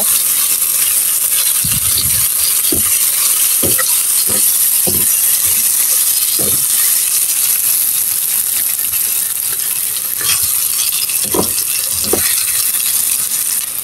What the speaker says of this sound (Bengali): এভাবে উল্টায় পাল্টায় ভালো করে ভেজে নেব।